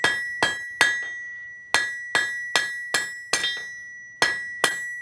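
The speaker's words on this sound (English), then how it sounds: "Now I'm going to do my best to hammer down the facets I created." A series of sharp metallic hammer strikes on hot steel, about ten in all, each ringing briefly with a bright tone, spaced roughly evenly with a pause midway.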